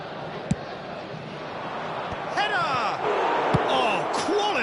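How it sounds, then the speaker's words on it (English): A stadium crowd in an eFootball Brazilian League Division 1 match roars steadily, with whistles and shouts rising over the constant wash of cheering. "Certainly gave this crowd something to really cheer about."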